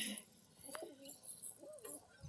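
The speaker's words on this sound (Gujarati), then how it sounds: "આ પારવો ઘૂટે છે" A white pigeon coos softly twice, low rounded notes rising and falling, faint and close in a quiet setting.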